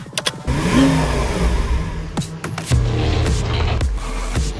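A 2017 Lamborghini Aventador S V12 revs loudly up close in a few sharp throttle blips, with a steady, strong engine roar between them and no speech.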